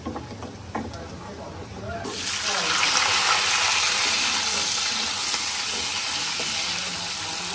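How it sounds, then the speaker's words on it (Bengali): Chopped ginger and garlic frying in hot oil for Chinese-style fried rice and chilli chicken, a steady broadband sizzle that swells loud after a quieter start and holds close, with faint talk underneath. "এই আদা রসুন কুচিটা যখন তেলের মধ্যে খুব সুন্দর গরম হয়ে একটা ব্রাউন চলে আসবে"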